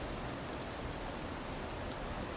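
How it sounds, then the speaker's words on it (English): Torrential rain pours outside a TV weather studio in downtown Greenville during a severe storm, a dense, constant hiss of heavy rainfall with little wind, loud and unbroken throughout. "but just torrential rain"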